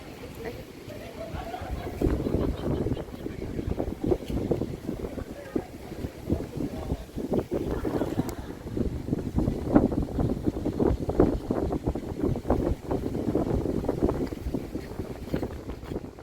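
Wind blows outdoors and buffets the microphone in a continuous low rumble with gusty surges, while a person talks over it throughout.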